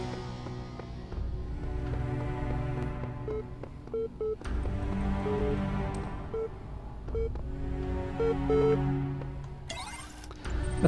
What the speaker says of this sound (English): But I hear a terminal beeping somewhere.